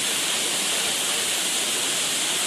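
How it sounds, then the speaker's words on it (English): A massive waterfall plunging down a tall cliff in North Carolina, a loud, dense, continuous roar of crashing water that stays steady and close throughout, with no voices. "That's a massive waterfall."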